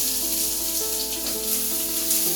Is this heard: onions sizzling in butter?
yes